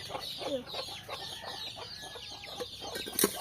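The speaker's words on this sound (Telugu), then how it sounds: "కోళ్ళు అటు మొత్తుకుంటున్నాయి" Chickens clucking around a rural home with a tin-sheet roof: a run of moderately loud, overlapping clucks spread over a few seconds at middle distance, with no talking.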